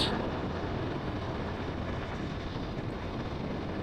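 Strong cold wind roars and buffets a microphone on a motorbike riding through foggy, wet lanes, a dense continuous rumble with no breaks and no talking.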